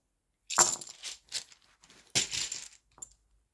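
Tarot cards being shuffled produce several short, crisp bursts of riffling and slapping, close and clear, separated by brief quiet gaps.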